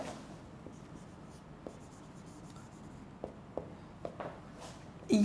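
Chalk or marker writing on a board during an English lecture, a faint continuous scratchy stroke with a few sharper taps, heard close and alone without talk.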